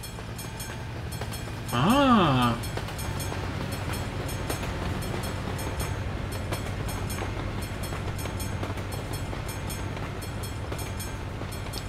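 A train in the Euro Truck Simulator 2 video game rumbles past steadily with a rolling clatter, and a brief horn-like tone sounds early on. A man gives a short exclamation over it.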